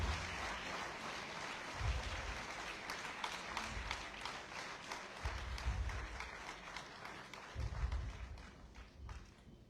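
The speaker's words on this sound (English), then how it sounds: "Keep clapping, keep clapping." Applause from the audience at a commencement ceremony where a president has delivered an address, a dense steady wash of clapping lasting throughout, with low thumps breaking in at intervals.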